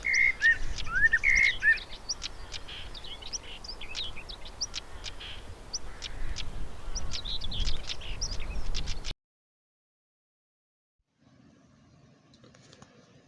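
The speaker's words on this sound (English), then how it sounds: "All the birds of these rough pastures are busiest in Maytime." Small birds sing and chirp over rough chalk grassland pasture in May, with dense overlapping calls for about nine seconds, then a sudden cut to near silence and a faint distant rustle.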